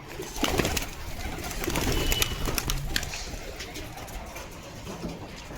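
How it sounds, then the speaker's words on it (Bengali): Pigeons coo on a rooftop in a dense, continuous outdoor wash of sound, with bird calls and rustling that may include wing flaps. Faint voices sit in the background. "আর পায়রাগুলো ওড়াতে হবে"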